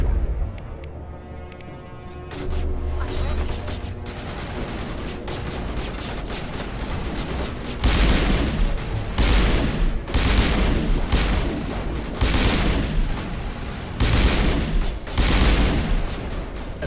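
Gunfire from a weapon in Mass Effect cracks out in repeated heavy bursts, loud close shots in an uneven rhythm with pauses between volleys, over a humming game background.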